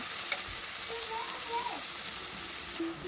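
Steady frying sizzle of onion and garlic in hot oil for a dried ribbonfish dish, with occasional stirring clinks; no talking.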